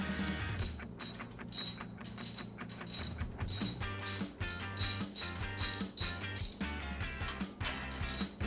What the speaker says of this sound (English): We're going to tighten all these up using your 19mm socket.